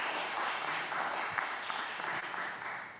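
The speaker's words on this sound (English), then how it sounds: "a round of applause and jazz hands in here for you" Steady applause fills a church service congregation, dense continuous clapping holding at an even loud level for a few seconds with no voices over it.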